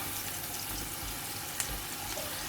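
Onions fry in oil in a pan, a low, even hiss of sizzling that holds steady throughout, with one small tap near the middle and no voices.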